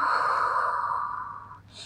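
A slow, breathy exhale through the nose during a Pilates child pose, a single soft airy breath that fades out near the end, close and unaccompanied by talk.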